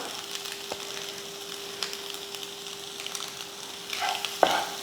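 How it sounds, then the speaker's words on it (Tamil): Egg bhurji is stirred lightly in a pan, giving faint scrapes and soft clinks over a low steady sizzle and a faint background hum, close up with no talk. "இந்த மாதிரி லைட்டாக அப்படி கிளறி விட்டால் போதும்"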